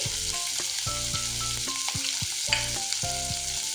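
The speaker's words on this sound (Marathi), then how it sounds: "आता त्यामध्ये आपण शिमला मिरची टाकून घ्यायची आहे, पत्तागोबी" Capsicum and cabbage are stir-fried in a hot pan for veg manchow soup, giving a loud, close sizzle with repeated sharp scraping and tossing strokes and no voices.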